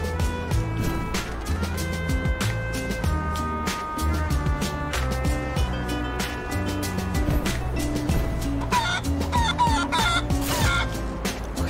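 Chicken clucking in the video game Guacamelee! 2, repeated short clucks over a busy layered game music track, no talking.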